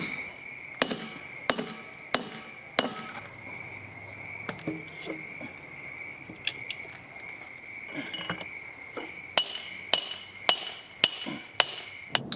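Sharp hammer blows drive an axle seal into a van's axle with a seal installer tool, a dozen or so metallic strikes in uneven bursts over a steady high insect-like whine.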